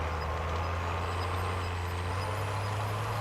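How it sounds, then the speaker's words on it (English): Sustained low vehicle drone with a steady high whine in Call of Duty Warzone, the engine held on the handbrake, a continuous even rumble running throughout with no talk. "It sounds like he's holding the handbrake"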